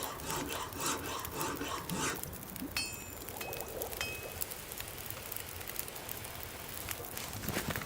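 Steady scraping, rasping crafting noise from The Long Dark survival game runs continuously at low level, with a few faint metallic clinks scattered through the middle.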